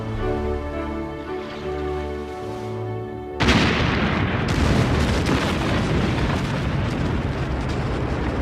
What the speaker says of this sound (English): mysteriously, an explosion happens